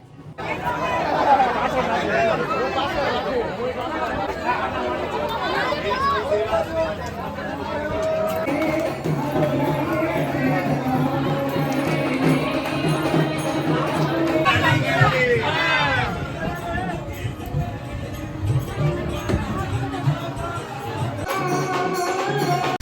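Crowds of people at the temples of Vrindavan make a dense, continuous hubbub of overlapping voices and chatter, steady and fairly loud throughout.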